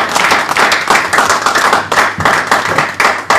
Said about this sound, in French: Acclamons tous très fort.